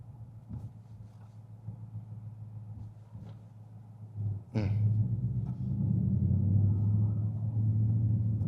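Supercharged 2021 Ford Mustang Saleen 302 V8 rumbling at low revs while driving, with a deep steady burble that swells abruptly into a louder, fuller roar partway through and holds there.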